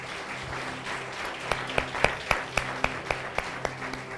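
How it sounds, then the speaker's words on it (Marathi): A congregation at a Sunday church service applauds in a steady, moderately distant wash of clapping, with a few sharper individual claps standing out in a regular rhythm toward the end. "टाळ्या वाजूया."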